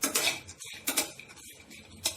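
Spoon scraping and clinking against a pan while peanuts are tossed with turmeric powder, a few quick metallic scrapes in short bursts with quiet pauses between, close and moderately loud.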